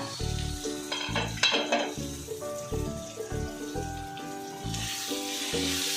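Sliced onions softening in a covered pan for Kerala-style kappa biriyani give a constant close sizzle under melodic background music, with occasional soft clatters of the lid or utensils.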